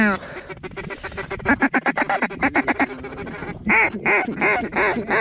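Mallard ducks quack in rapid, loud, close bursts during a snowstorm hunt, a dense chorus of repeated calls with a faint human voice underneath.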